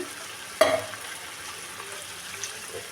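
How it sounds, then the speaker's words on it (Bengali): Katla fish curry with yogurt and a peanut and poppy seed paste gives a sharp, close spattering burst in the pan, then a low, steady frying hiss. "বাদাম পোস্ত দিয়েছি সেহেতু খুব ছিটছে"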